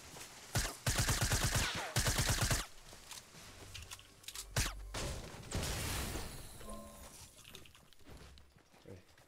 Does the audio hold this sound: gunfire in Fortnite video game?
yes